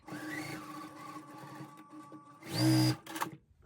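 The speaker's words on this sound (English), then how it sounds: "now I need to sew this end piece on, my end block on" A sewing machine stitches the end piece onto a Goose Chase quilt block: a short, loud mechanical whir near the end, after quieter handling noise.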